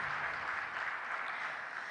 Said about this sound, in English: A round of applause for the Chandrawasi dance.